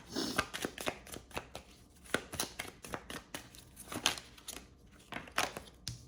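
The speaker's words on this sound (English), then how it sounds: "Can I get one card out of this deck?" Tarot card deck being shuffled, a rapid series of crisp riffling and flapping card bursts repeating close up for several seconds with no talk.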